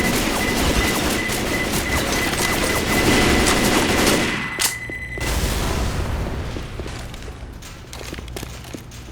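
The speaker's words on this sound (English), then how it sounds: "Throwing a pipe bomb." Chaotic Left 4 Dead 2 firefight at the Dark Carnival, loud continuous gunfire and heavy booms from a pipe bomb blast, dense and close, with rapid shots continuing afterward.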